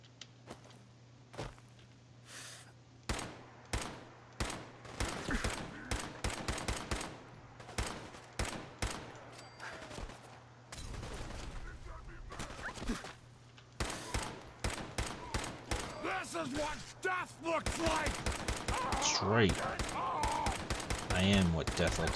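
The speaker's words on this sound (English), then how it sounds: "I don't know who they were shooting at" Rapid bursts of gunfire from Fallout 4 crackle through a battle with robots and super mutants, with sharp repeated shots near and far, fusillades building toward the end, and footsteps between volleys.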